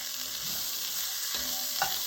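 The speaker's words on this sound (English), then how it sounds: "And while I'm browning this, I'm also going to go ahead and throw my onions in here." Beef browns in a pot for homemade beef stew while onions are thrown in to fry, giving a soft continuous sizzle with a few scraping stirs toward the end and no speech.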